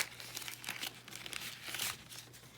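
Paper is folded and crumpled for origami, giving a brief run of close, faint crinkling and rustling bursts with no talking.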